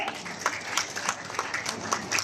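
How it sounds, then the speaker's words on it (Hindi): Audience applause at a government ceremony for handing over appointment letters to dentists and medical officers, steady distant clapping with scattered sharper claps throughout, fairly faint and even. "तालियां आपकी तरफ से जरूर हो।"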